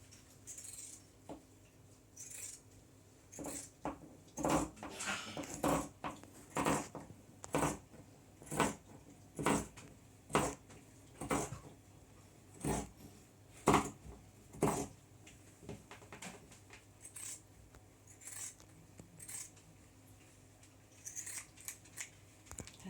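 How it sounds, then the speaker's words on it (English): Scissors cutting the selvage off fabric for a no-sew dog bandana, a long run of crisp, close snips in a steady rhythm, with pauses and light handling noise. "I'm then going to cut the salvage off this end."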